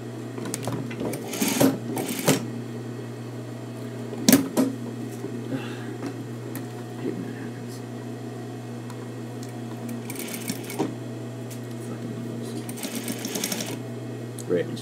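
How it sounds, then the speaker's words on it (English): A sewing machine stitches a coat in steady, continuous mechanical whirring, with a few louder clunks and bursts along the way. The machine runs close and fairly loud throughout. "Look, I'm sewing."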